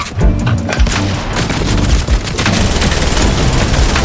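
Rapid submachine-gun bursts in Fortnite crackle loud and close in dense, continuous volleys, with sharp booming shots layered over the fire.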